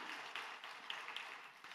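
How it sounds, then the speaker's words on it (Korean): A church congregation claps together during a Sunday worship service, producing a soft, continuous patter of applause that sounds fairly distant and quiet, with no talk over it. "우리 하나님께 영광의 박수로 찬양합시다."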